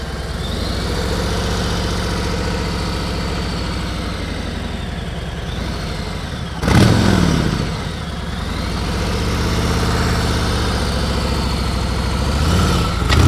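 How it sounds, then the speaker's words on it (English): Motorcycle engine idling steadily, then rising and falling in pitch as the bike is ridden, loud and continuous with a brief surge midway and again near the end, no talking. "I felt that motorcycle going over to the right."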